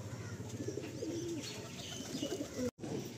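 Madrasi and Andhra pigeons coo softly in a series of low, rounded calls, fairly close, with light chirps and background rustle around them.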